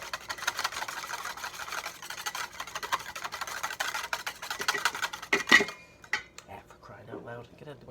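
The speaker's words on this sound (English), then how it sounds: "Slowly and whisk at the same time." A whisk beating olive oil into Caesar salad dressing in a bowl, a steady close metallic rattle that runs for several seconds before stopping, followed by a few softer clinks and brief voices.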